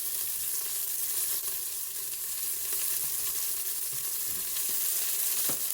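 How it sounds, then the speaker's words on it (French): Half a bell pepper fries in a Cookeo multicooker for paella, a steady close sizzle with faint, occasional stirring scrapes and a sharp tap near the end. "Je remue."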